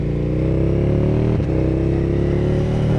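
A 2017 KTM Super Duke 1290 R with its big 1300cc twin-cylinder engine drones steadily and loudly while riding on the road, a continuous close engine note with a brief dip in the middle.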